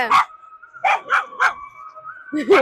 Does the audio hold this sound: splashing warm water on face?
no